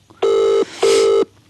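A telephone rings twice, loud and close, each ring a steady electronic tone lasting under half a second, with a short gap between them.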